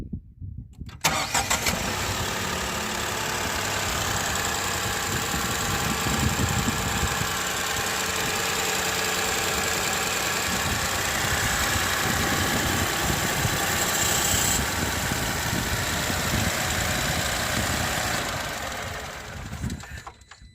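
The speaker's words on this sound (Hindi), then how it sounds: "Now let's hear the engine note of this vehicle." A Tata Nexon XZ+ petrol car starts up and then idles, the engine settling into a steady, even hum that holds close and constant for about twenty seconds before cutting off.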